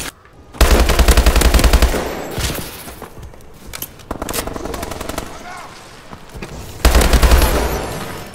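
STG 44 assault rifle fire in the Call of Duty Advanced Warfare video game: two loud, sustained automatic bursts open and close the passage, with shorter, quieter bursts and scattered shots between them.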